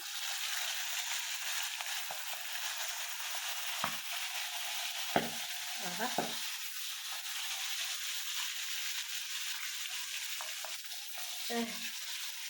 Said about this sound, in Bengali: মাছের জন্য তেল গরম দিছি এক এক করে মাছ দিয়ে দিব